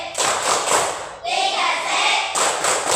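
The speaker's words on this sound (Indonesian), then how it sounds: "mari kita tepuk 3C." A classroom of children chants the rhythmic '3C' clapping cheer with their teacher, their loud unison voices broken by bursts of quick hand claps, close and lively.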